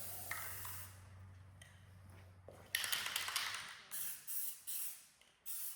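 A spray paint can lays a light dust coat onto a rifle in short hissing bursts, several separate sprays with brief pauses between them, close and fairly loud over a low background hum.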